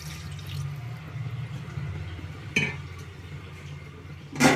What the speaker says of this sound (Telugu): అందులోకి వాటర్ కొద్దిగా యాడ్ చేసుకుందామండి.